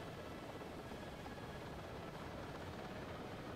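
Ka-50 attack helicopter in a combat flight-simulator game, its rotor and engine making a faint, steady low drone that holds evenly throughout with no speech over it.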